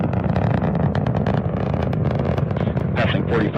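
An Atlas V rocket with its RD-180 engine roars during supersonic flight at a launch: a loud, steady, rumbling roar fills the whole stretch, with a commentator's voice over it.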